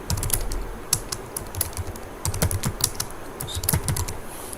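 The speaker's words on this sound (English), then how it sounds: "I'm typing here my channel name" Keys clatter on a computer keyboard in quick, uneven bursts as a company name is typed into a Microsoft Word text box, close and clear with no talking.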